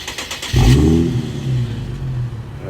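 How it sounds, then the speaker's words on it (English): A cold Infiniti G37 fires up by remote start: a brief cranking clatter, then the engine catches with a loud rev that settles into a steady, throbbing idle heard up close outside the car. "And we're gonna remote start the car."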